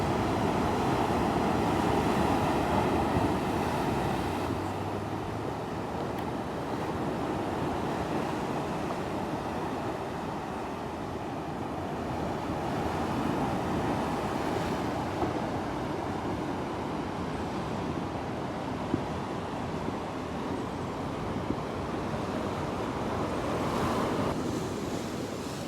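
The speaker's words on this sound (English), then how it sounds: "so that you can experience the sea washing up against the rocks" Sea waves wash against coastal rocks below cliffs between two Sydney ocean pools in the early morning, a steady loud roar of surf with gusting wind on the microphone and no talk.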